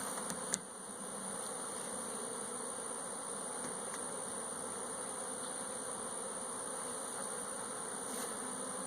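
Steady, dense buzzing of many honey bees close by as nucleus hive boxes are opened, a continuous drone with no voices, holding evenly throughout.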